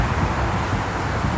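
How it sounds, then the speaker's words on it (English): Wind buffets the microphone outdoors beside a busy expressway as a steady, loud rushing noise with a broad roar underneath. "It's a little windy today."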